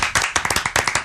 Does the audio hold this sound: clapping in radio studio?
yes